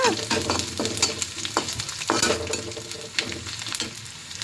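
Grated ginger, green chillies and curry leaves frying in a tempering for dahi vada: a loud, crackling sizzle under repeated spatula scrapes and knocks against the pan, close by and with no speech.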